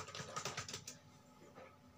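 Keys tapped on a computer keyboard while entering a password in an Ubuntu terminal: a quick run of light clicks for about a second, then near silence with faint background hum.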